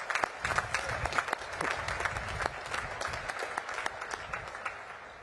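Applause from a large crowd at the Naval Academy Class of 2025 graduation ceremony, dense and steady clapping with scattered sharp claps, filling the space for several seconds without any talk.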